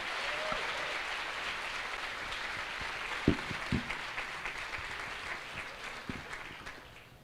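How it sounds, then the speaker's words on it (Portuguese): A church congregation applauds steadily through a Sunday evening service, a dense, even wash of clapping heard at moderate distance, with a few louder nearby claps and faint voices scattered underneath. "E nesse mesmo espírito, aplaudindo ao Senhor, vamos receber o príncipe de Deus, o pastor Alexandre"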